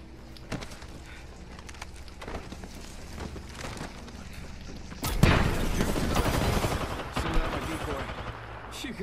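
Apex Legends firefight with a scatter of distant weapon shots, then a loud close burst of automatic gunfire that carries on in rapid cracks, with game character voice lines heard alongside.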